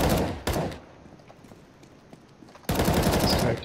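Automatic gunfire in a first-person shooter game, fired through a wall: two loud rapid bursts, a short one at the start and a longer one near the end, separated by a quieter stretch with faint distant shots.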